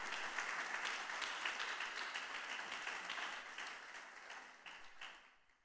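Sustained applause fills a church as the congregation claps during an evening service, a steady, dense wash of hands that gradually fades away near the end.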